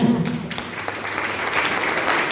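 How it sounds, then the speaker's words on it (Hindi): An audience at a business presentation claps together in a short, steady burst of applause at moderate loudness, with no voices heard over it. "जोरदार ताली होनी चाहिए।"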